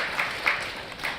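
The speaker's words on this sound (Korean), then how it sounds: "박수 한번 쳐주십시오" A short burst of studio audience applause during a Korean talk show on sleep apnea, a soft, steady patter of clapping from a moderate distance with no voices over it.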